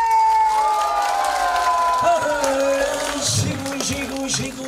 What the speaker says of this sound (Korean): 자 박수 합니다. 다 같이